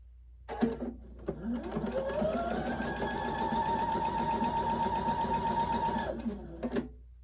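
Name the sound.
sewing machine sewing quilt star block pieces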